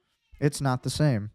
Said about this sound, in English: got a cat meowing behind me.